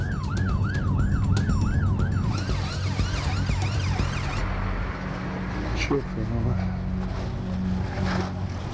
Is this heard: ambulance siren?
yes